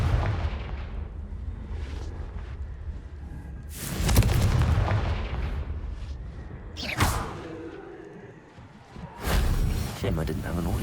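Confringo fire spell blasts in the Hogwarts Legacy video game, several booming explosive bursts with whooshing tails over rumbling game ambience, one voice speaking briefly.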